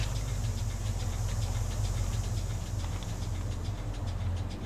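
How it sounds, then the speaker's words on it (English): A train rumbles steadily nearby in GTA San Andreas, a constant low mechanical drone with a continuous engine-like hum and faint rail clatter, no talk over it. "See the train comes."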